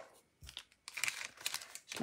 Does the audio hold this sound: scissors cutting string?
yes